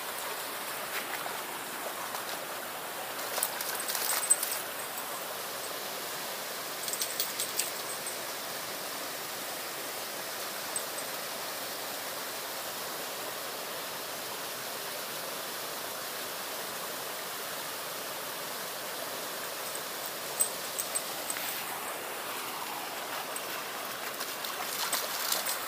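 A small tributary stream flows along a trail, giving a steady, soft broadband rush of water throughout with a few faint handling noises and no talking.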